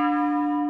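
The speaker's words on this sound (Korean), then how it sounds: "이종소리 들리오면" A temple bell struck during Korean Buddhist morning chanting rings as one sustained, loud, pure metallic tone with clear overtones, heard close and alone.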